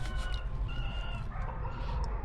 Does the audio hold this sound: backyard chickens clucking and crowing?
yes